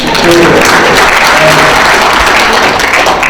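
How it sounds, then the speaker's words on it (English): Audience applause during a conference keynote talk, a loud, sustained burst of many hands clapping that fills the space evenly, with a little crowd murmur beneath. "It's okay to clap for that."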